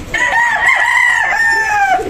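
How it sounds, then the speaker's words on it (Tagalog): A gamefowl rooster from Red Game Farm gives one loud, drawn-out crow close by, a single clear call lasting about two seconds. "Na manok na nabili ko sa Red Game Farm"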